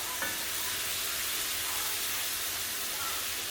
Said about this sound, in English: you just kind of want to saute it